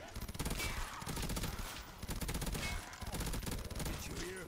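Rapid automatic gunfire from a World at War zombie map in an abandoned school, a dense continuous burst of shots, loud and close, with a short gap partway through.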